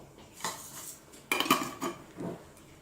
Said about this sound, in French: j'en mets 2 cuillères à soupe rases